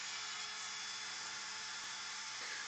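A Dremel rotary tool with a small detailing bit whines steadily while it tidies the edges of a turned wooden flying saucer piece, making a continuous high-pitched buzz at close range.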